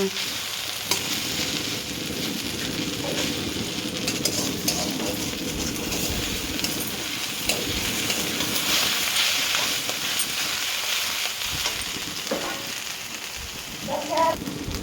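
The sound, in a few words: frying saag greens with okra in a pan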